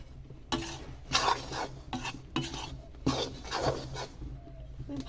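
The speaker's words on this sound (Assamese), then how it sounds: "মই ভাজিম এতিয়া পিঠাগুড়ি" Home-pounded ground rice flour is stirred and scraped in a pan as it dry-fries, producing repeated soft rasping strokes at an irregular rhythm, close and fairly quiet, with no talking.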